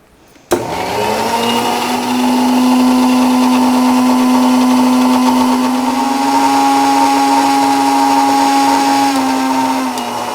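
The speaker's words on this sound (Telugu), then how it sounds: "మనం మిక్సీ ఎంత బాగా తిప్పితే అంత బాగా ఉంటుందండి" An electric mixer grinder whirs steadily as it blends an egg solution with neem oil, starting abruptly and holding a loud, continuous motor drone with a rising whine for the whole stretch, no voices over it.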